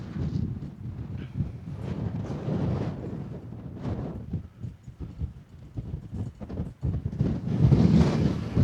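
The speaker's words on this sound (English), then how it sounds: "she's a bit windy" Steady wind rumbles and buffets across open moorland on Barningham Moor, a continuous low roar with gusty swells that rise louder toward the end.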